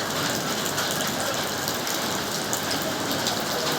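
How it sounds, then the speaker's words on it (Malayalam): Steady heavy rain pours during a flood on the Kondotty bypass road, where heavy vehicles are stranded, a dense, unbroken hiss with no voices. "മഴ പെയ്തുകൊണ്ടേയിരിക്കുന്നുണ്ട്, നിന്നിട്ടില്ല."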